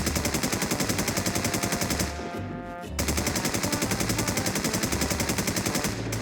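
A blue SCAR rifle fires full-auto in the video game Infestation, loud close rapid regular shots in two long strings separated by a short pause.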